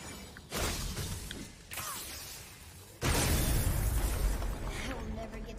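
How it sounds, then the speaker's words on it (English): Glass-like shattering and crashing from the video game Dog of War, several loud bursts in a row with debris clatter, the last one biggest and longest. "I will never get tired of shattering things with this"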